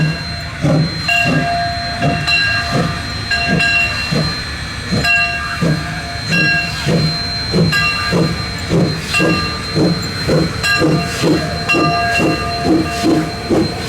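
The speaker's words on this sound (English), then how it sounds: "spitting out an absolutely ludicrous amount of steam" A small steam locomotive at a steam museum chuffs loudly in a steady rhythmic beat, with a constant hiss of escaping steam and a faint whistle-like tone running throughout.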